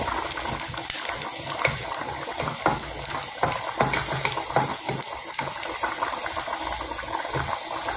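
Chopped garlic frying in a hot pan for ginisang corned beef, a continuous close sizzle with crackling bursts throughout.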